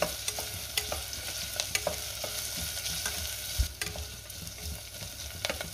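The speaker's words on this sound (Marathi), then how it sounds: "त्यातच अर्धा चमचा आले लसणाची पेस्ट घातली आणि हे पण मी 1 मिनिटभर चांगलं परतून घेणार आहे" Ginger garlic paste sautés with softened onions in a pan, giving a steady low sizzle with occasional scrapes and clinks of stirring, fairly quiet and close, with no voices.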